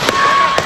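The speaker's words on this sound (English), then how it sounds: "So there's 5 quick shots." Two sharp shots in quick succession ring out at the start of a recording from a Trump rally, with another crack near the end, all carried over a steady crowd and ambient background hiss.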